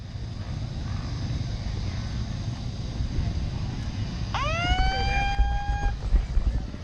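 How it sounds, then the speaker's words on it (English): Start horn sounding at a hare scramble dirt bike race, a single loud blaring blast about a second and a half long over idling motorcycle engines and outdoor rumble, with some talk nearby. "The 10-second horn will always get your heart rate going."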